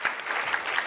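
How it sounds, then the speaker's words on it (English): Brief burst of audience applause at a policy panel event, dense, steady clapping filling the moment, fairly close. "That also deserves a round of applause"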